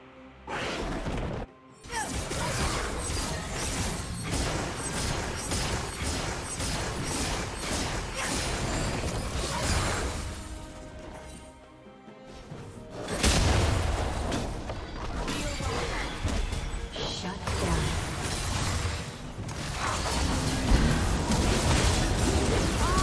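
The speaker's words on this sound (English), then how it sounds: "Red team's turret has been destroyed." A turret is destroyed in a League of Legends match between Kayle and Shen in the top lane: a dense run of crashing, smashing impacts and booms over game sounds, with a short gap partway through.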